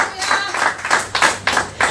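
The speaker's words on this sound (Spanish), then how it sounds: "dale un aplauso fuerte, no te cohibas" Applause in a church service, a few distinct bursts of clapping in quick uneven rhythm, fairly close, with voices mixed in.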